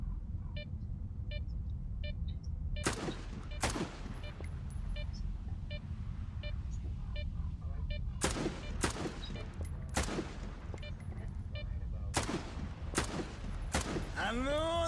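Single shots from a firearm in S.T.A.L.K.E.R. 2, sharp loud cracks fired one at a time at irregular intervals, several in quick succession, over a low ambient hum with beeps and someone talking.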